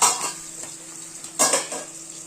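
Potato and paneer pieces shallow-frying in a pan, with two bursts of stirring and utensil scrapes against the metal over a faint, continuous sizzle.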